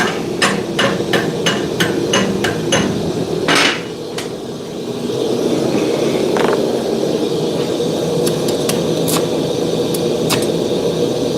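A slag tapping hammer strikes metal in a smithing shop, a rapid run of sharp close metallic taps at the start, then scattered single clinks later over steady workshop hum and rumble.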